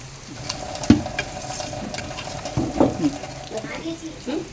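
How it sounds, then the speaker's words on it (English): Pieces of trevally fish are washed by hand in water with rock salt, giving soft splashes, swishes and light clinks against a bowl in a quiet kitchen. "the cleaning process is done by adding a little rock salt and washing it properly"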